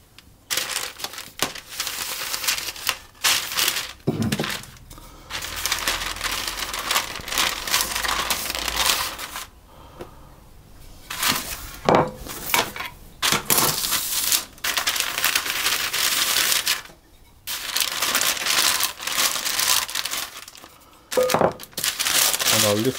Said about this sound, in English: I'm going to cover it with some more parchment paper. I'm just going to roll it out